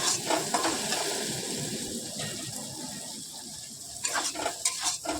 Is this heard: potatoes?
yes